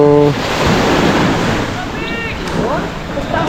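Sea waves wash at the beach in a continuous loud rush with wind buffeting the microphone, and brief tonal sounds break through near the start and middle.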